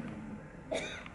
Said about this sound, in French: Les gens toussent tout d'un coup.